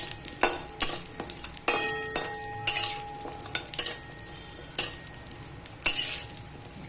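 Dates roasting in oil in a pan while a utensil stirs them, making repeated close scraping and clinking strokes in an uneven rhythm over a light sizzle, with no talking.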